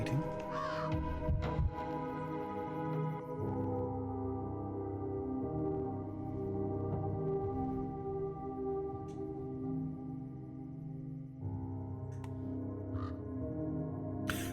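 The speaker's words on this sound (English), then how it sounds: "Why is my heart beating?" In the video game Pathologic 3, a low, muffled heartbeat throbs steadily beneath a droning ambient hum, with crow caws breaking in near the start and faint tonal game sounds.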